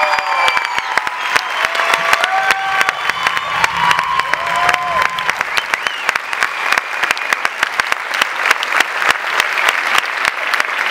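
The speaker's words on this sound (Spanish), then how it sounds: "Un aplauso a esta maravillosa orquesta" Theatre audience at the closing performance of the musical La Jaula de las Locas applauds the orchestra, loud, steady, dense clapping with scattered cheers and whistles.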